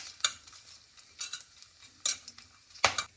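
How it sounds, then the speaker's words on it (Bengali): Two bay leaves, whole garam masala and two cloves fry in plenty of oil while a spoon stirs them, making a soft sizzle punctuated by irregular clinks and scrapes against the pan, with no talking. "ভালো করে ভেজে নিচ্ছি।"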